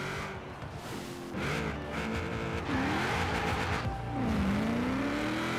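A Camaro accelerates down a drag strip in Forza Horizon 4, its engine note climbing in rising sweeps through tall gear changes, loud and continuous with no talking.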